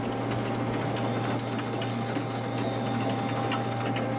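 A KURAKI KV-1000 machine tool runs its axis and spindle, giving a steady, loud mechanical whir with a constant low hum and faint fine ticking throughout, with no talking.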